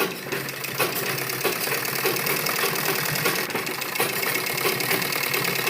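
A sewing machine stitches along the edges of fabric for a small child's Afghani salwar, a steady, fast mechanical rattle running close and continuous with no talking.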